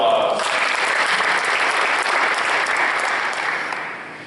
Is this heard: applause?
yes